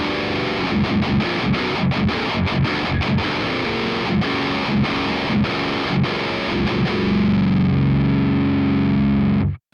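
A heavily distorted electric guitar runs through a Joyo amp with a Zzounds 4x12 cabinet simulation, playing dense chugging palm-muted riffs and then a held, ringing chord that stops abruptly, loud and alone.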